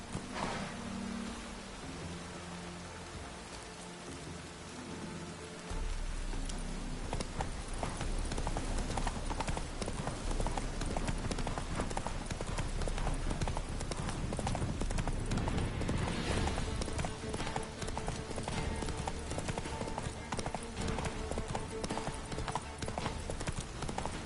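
Roach, a horse in Witcher 3, gallops with a fast, steady clip-clop of hooves that starts after a quieter opening and carries on loud and unbroken to the end.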